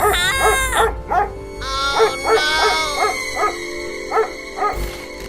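A mother dog barks in a steady run of about eight sharp, close barks, some rising into higher whining yelps, with a constant background hum and no talking.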